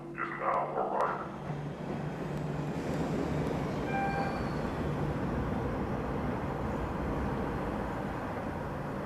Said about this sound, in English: The next Red Line train to Ashmont is now arriving.